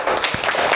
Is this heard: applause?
yes